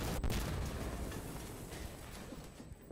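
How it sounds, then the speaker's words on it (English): A dense, continuous barrage of distant-sounding gunfire and booms on a refinery map in the video game Insurgency: Sandstorm, rumbling and crackling without pause. "All kinds of gunfire going on."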